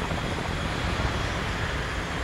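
Simulated aircraft engine in Flight Simulator 2020 throttling up, a steady broadband roar that holds loud and even throughout without clear change in pitch.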